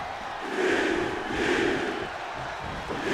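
Arena crowd in the WWE 2K25 wrestling game during a Sheamus, Jey Uso and Damien Priest match, a steady roaring cheer that swells twice before settling back to a sustained hum of noise.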